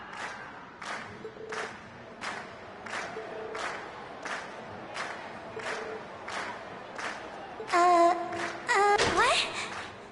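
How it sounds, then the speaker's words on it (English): A crowd in the Trails of Cold Steel video game cheering and calling out in repeated surging waves, with a brighter burst of game sound effects near the end. "we've heard your cheers loud and clear"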